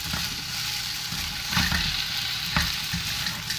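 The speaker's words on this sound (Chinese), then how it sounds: "嗱油热啦，我哋首先咧就摆啲秋葵落去" Okra stir-frying in hot oil in a wok over high heat gives a steady, close sizzle throughout, with a couple of louder stirring scrapes and clatters along the way.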